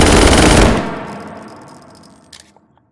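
Full-auto handgun fired from the hip in the VR shooter H3VR: a loud, rapid burst of shots lasting under a second, then a long decaying echo tail with faint mechanical clicks and no talk.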